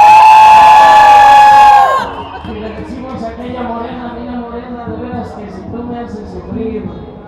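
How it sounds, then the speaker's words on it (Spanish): A loud whistle-like tone cuts off into a crowd shouting and cheering at a castle-fireworks fiesta in San Juan Pantitlán, Mexico, many voices blending in a sustained, lively roar. "A ver, escucha un grito."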